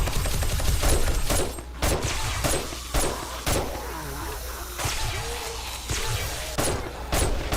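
A 7.62 rifle fires in a video game, with loud, close shots cracking in rapid bursts that continue almost without a break.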